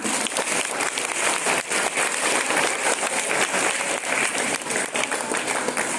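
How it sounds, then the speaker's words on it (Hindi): A hall audience at an Independence Day celebration gives a student steady, dense applause, many hands clapping together at an even loudness throughout, with no voices standing out. "जोरदार तालियां।"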